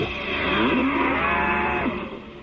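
Frisian cattle moo in a single long, loud, close call that sustains for about two seconds before fading, heard alone without talk.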